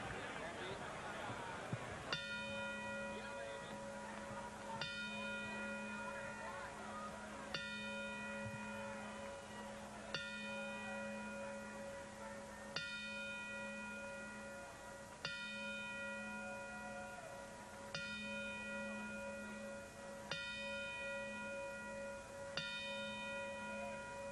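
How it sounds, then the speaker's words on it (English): A boxing ring bell tolls a traditional ten-bell memorial salute before a fight. The clear, ringing strikes are evenly spaced about every two and a half seconds, each one sustaining over a faint crowd hubbub. "we would like to play our traditional 10-bell salute in his memory"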